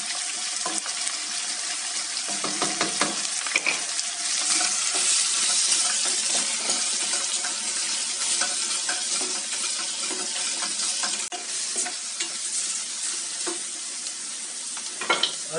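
Tomato paste fries in a pan for Izmir köfte, giving a continuous close sizzle. A utensil scrapes and taps through it now and then as the paste is stirred, with no talk.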